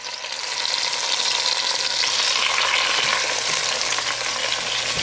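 Tomatoes hit okra in a hot pot, and the cooking swells into a loud, steady, dense sizzle that holds without a break.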